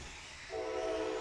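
A train horn sounds from a distance midway through, a steady sustained tone rising out of quiet background hum near a race track.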